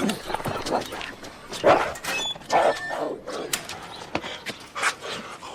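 Dogs bark, yip and whimper while tussling over a thrown stick, with sharp bursts and short scuffling sounds spread irregularly across the clip, close and fairly loud.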